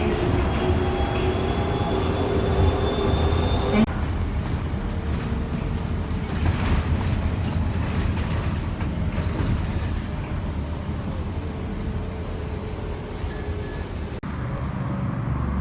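An airport sky train hums and rumbles steadily while moving, with a constant mechanical drone and occasional tonal whines from the track or motors.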